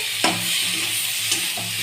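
Eggplant fries with turmeric in a hot pan for a brief stretch, giving a steady close sizzle with a couple of quick stirring scrapes.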